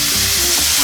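Food sears in a hot pan with a loud, steady sizzle of dense, hissing crackle that fills the whole short moment, close to the mic and without any voices.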